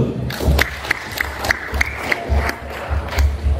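A group at a basic life support training session claps with loud, sharp irregular hits and a whooping cheer over the top, close and energetic.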